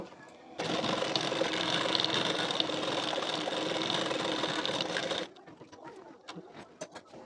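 A sewing machine stitches a blouse placket in one continuous, steady whirring run of about five seconds, followed by faint clicks and handling noises.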